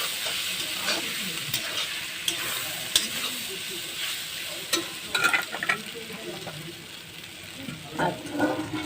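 Stuffed pointed gourd (potol), filled with a lentil stuffing, frying in a pan, a steady close sizzle with intermittent pops and scraping stirs.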